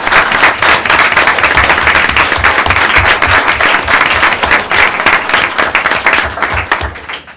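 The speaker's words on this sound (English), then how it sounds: "So if I could just have our instructors stand for a second and receive a round of applause." Loud, close round of applause at a school board meeting as the instructors stand, dense clapping from many people held at full strength, then tapering off at the very end.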